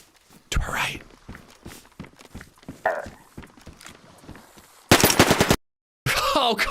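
Gunfire in DayZ on a snowy Deer Isle winter map: scattered sharp shots amid footsteps and quiet voices, then a loud, dense burst of rapid shots near the end, abruptly cut and resuming.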